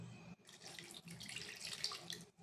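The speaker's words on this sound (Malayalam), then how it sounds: "എന്നിട്ട് നമുക്ക് കുറച്ച് വെള്ളം ഒഴിക്കാം" Water is poured into a pan over jaggery to melt it for adaprathaman payasam, a soft, quiet splashing stream that runs for about two seconds after a brief pause.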